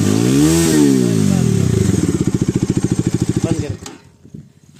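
Bajaj Dominar 250 BS6 motorcycle engine, a 2022 model, revving loud and close then settling into a rapid pulsing idle before cutting off, with voices speaking over it.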